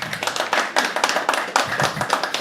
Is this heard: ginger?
no